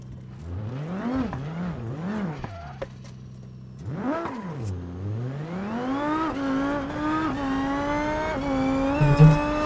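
A car in the driving game BeamNG.drive revs up and down in quick swells, then pulls into a long rising acceleration with brief tire squeal, loud and close with no talking.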